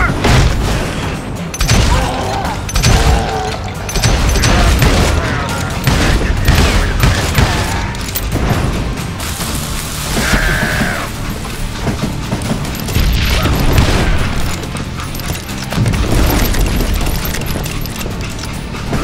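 Gunfire in the Western shooter game Call of Juarez: Gunslinger, bursts of shots and booms crackling loudly and continuously amid mechanical clatter and a dense game soundtrack.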